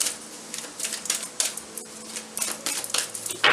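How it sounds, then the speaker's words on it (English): Tarot cards being shuffled in quick bursts of crisp flicking and riffling, close up, with short pauses between each pass. "couple more shuffles."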